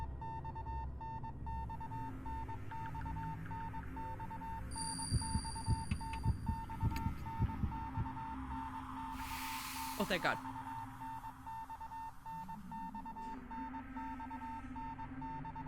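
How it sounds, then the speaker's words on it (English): A steady, repeating Morse-code-like beeping from the horror video game Spirit Hunter: Death Mark pulses in a regular rhythm under eerie ambience and other game sounds, with brief spoken words. "If beeping becomes gradually louder, almost as if it's trying to tell me something"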